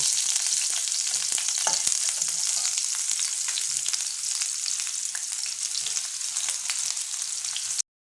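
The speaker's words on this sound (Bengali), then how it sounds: "এবার আমি পেঁয়াজটা দিয়ে দেবো। পেঁয়াজটা আমি লাল করে ভেজে তুলে নেব।" Sliced onions sizzling in hot oil as they fry until browned for beresta, a steady, loud crackling hiss with occasional small pops, continuous throughout with no voices.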